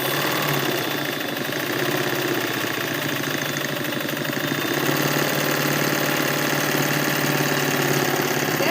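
An embroidery sewing machine runs continuously at a steady, rapid mechanical hum and chatter, growing slightly louder midway, with no voices.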